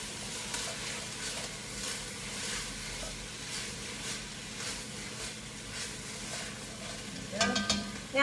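Drained chickpeas and cherry tomatoes sizzling in a pan with a soft continuous hiss and light stirring, ending in a brief louder clatter.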